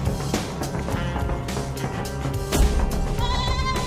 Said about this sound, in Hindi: बकरी को शोर आ रहा है।